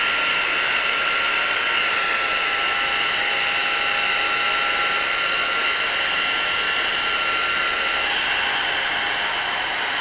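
A heat dryer blows steadily while melting embossing powder on a craft background, a loud continuous whirring roar that holds even for the full stretch with no pauses.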